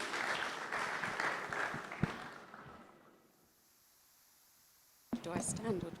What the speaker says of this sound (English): So a round of applause for Vanessa as she comes on stage.